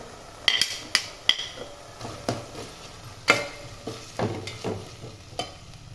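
Large onions sauté in a pan, giving a steady soft sizzle broken by a run of sharp clinks and scrapes as a utensil stirs and taps the pan, with no voice over it.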